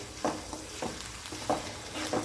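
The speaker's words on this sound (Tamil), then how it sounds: "இந்த வெங்காய பேஸ்ட்டு இதையும் இதெல்லாம் போட்டு நல்லா வதக்கிப்போம்" Onion paste frying in oil gives a soft, quiet sizzle, with four evenly spaced scrapes of a stirring spoon against the pan.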